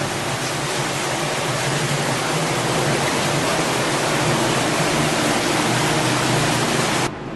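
Water rushes steadily through the dark tunnel under the City of David, a dense, loud, unbroken roar of flowing water, knee-deep and cold, that drops off abruptly at the very end.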